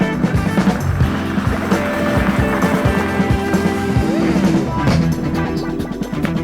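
Engwe Engine X 250W electric bike doing a rear wheel skid, a loud close rolling rumble of tyre scrub and motor whine with rattling knocks, steady across the clip and fading slightly near the end.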